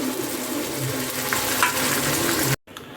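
Masala paste sizzles and fries steadily in hot oil over sautéed onions for a Malvani surmai fish curry, a loud continuous crackle with a brief stir, then a sudden drop near the end.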